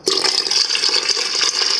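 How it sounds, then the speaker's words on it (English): Cool water pours steadily into a pot of spiced curing brine for making bacon and ham, a loud, continuous splashing fill heard up close with no talking. "I'm just adding a couple of cups of cool water here"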